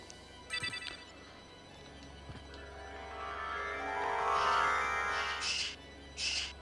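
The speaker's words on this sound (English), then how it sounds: "One day I'll remember to turn off notifications on my streams." A stream notification ringtone chimes in short, bright bursts, first a quick cluster of tones, then a rising electronic swell and two more sharp chime bursts near the end, fairly faint over a steady low hum.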